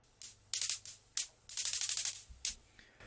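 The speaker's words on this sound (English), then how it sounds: "it has a longer decay and a stranger EQ that it makes it sound like a hi-hat" Layered white-noise hi-hat hits in a music track: bright, hissy bursts with longer decays in a loose rhythm, including a quick run of rapid hits, over a faint low hum.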